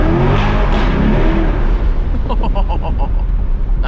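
A Chevrolet C8 Corvette engine revs loudly up close, a deep roar that climbs and then settles into a lower rumble with rapid burbling pulses.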